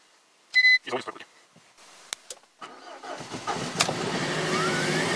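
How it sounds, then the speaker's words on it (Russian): A few clicks and beeps, then a car engine cold-starts in deep frost, cranking and catching, settling into a rising, steady idle. "Машина завелась."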